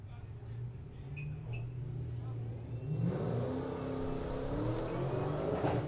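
Ford Mustang and Mazda MX-5 launching off the line in a drag race at a summer nationals meet, engines idling then roaring up into hard acceleration at a distance, with an announcer talking over them.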